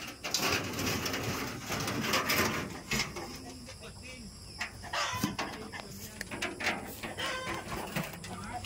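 Egg-laying hen clucking in a drum and fowl calls amid a busy outdoor farm soundscape, with voices talking intermittently and some clattering noises nearby.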